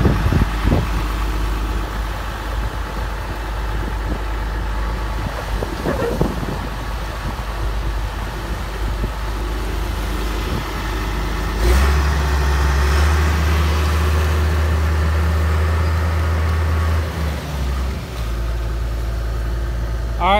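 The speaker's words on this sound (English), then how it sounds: "Got the John Deere bulldozer out here." A John Deere bulldozer engine runs steadily beside a creek, a loud, continuous low rumble with a deeper throb swelling partway through and no voices.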